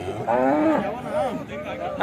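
A cow moos in a long, drawn-out call at a cattle market, then gives a second lowing moo close by, with faint background noise.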